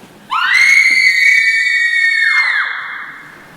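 A woman's high, sustained cry offstage during a high school stage production of Macbeth, one long wavering scream lasting about two seconds that ends by falling away, loud and alone over a quiet hall.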